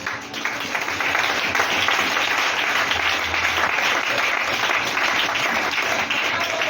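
A church congregation applauds steadily for several seconds, a dense, sustained burst of clapping from many hands filling the room evenly with no pause.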